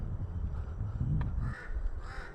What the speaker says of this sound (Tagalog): dami uwak